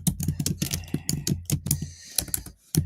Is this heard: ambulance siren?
no